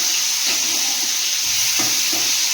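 Bele fish heads sizzle in a hot pan of oil, a loud, steady close-up hiss that runs throughout with a few soft stirring knocks underneath and no voices.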